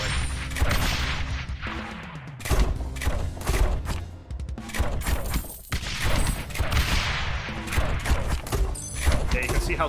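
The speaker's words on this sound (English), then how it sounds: "Yeah, mortars are just killing it." Mortar towers firing on waves of enemies in the tower-defense game Rogue Tower, heard as repeated thumping launches and impacts layered over busy game effects, with a voice talking throughout.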